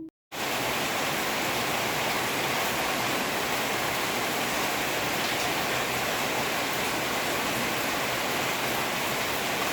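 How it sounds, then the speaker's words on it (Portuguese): Steady, dense rain pours down without pause, a loud even hiss close by that fills the whole stretch after a brief silent moment at the start. "Vambora comigo na chuva?"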